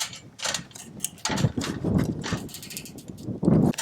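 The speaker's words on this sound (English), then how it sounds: "tighten up my cable tie here." A plastic cable tie is ratcheted tight around an outdoor TV antenna cable, giving several bursts of close, rapid zipping clicks with short pauses between pulls.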